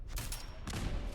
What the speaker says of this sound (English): Machine gun turret.